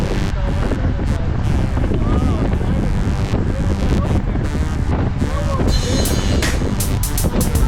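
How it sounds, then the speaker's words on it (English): Strong wind roars over the microphone while cycling outdoors in windy conditions, a loud continuous buffeting rush throughout, with a voice talking faintly underneath. "You hear that wind."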